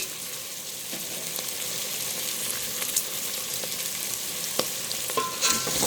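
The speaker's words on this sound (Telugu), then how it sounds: "అన్నీ కలిపేలాగా ఒకసారి కలుపుకున్నాం" Spoon stirring chopped drumstick pieces, vegetables and dal in a pot for drumstick dal charu: a steady, close sizzle runs throughout, with occasional sharp scrapes and clinks against the pot.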